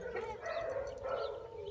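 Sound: young beagle dog barking and howling

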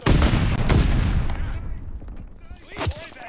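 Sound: stun grenade going off in Call of Duty: Vanguard video game

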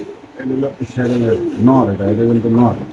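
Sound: pigeons cooing at a pigeon market

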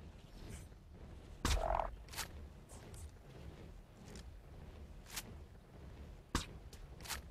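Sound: frog croaking in Ark Survival Evolved video game

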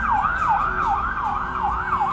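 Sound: ambulance sirens

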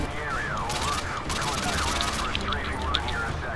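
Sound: gunfire in the video game Modern Warfare 2 Spec Ops

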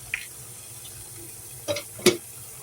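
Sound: shrimp sinigang soup boiling in covered pot

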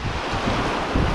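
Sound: strong ocean wind and high tide waves at beach

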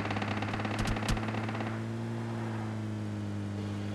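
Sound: gunfire in the video game PUBG Lite

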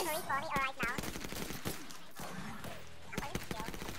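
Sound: gunfire from Apex Legends video game

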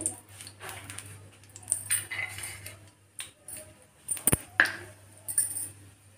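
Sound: almonds and cashews dropped into hot ghee in a pan

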